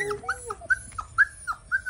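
A puppy whimpers and cries in a run of short, high, whiny yelps, about six close whines in quick succession, fairly near and alone.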